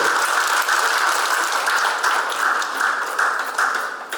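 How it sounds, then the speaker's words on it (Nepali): Audience applause welcoming a land donor at a community gathering, a dense, steady wash of many hands clapping that fills the whole moment at even loudness before easing slightly at the end. "उहाँलाई सबैले ताली बजाएर स्वागत गर्नु अनुरोध गर्छु"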